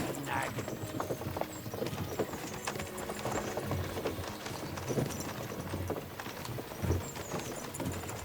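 Steady clip-clop of horse hooves in the video game Kingdom Come: Deliverance 2, with a busy background, a brief whinny-like sound near the end, and voices talking over it.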